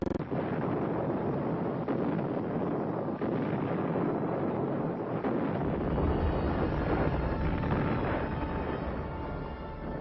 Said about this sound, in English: Spectacular rocket failures destroy American morale.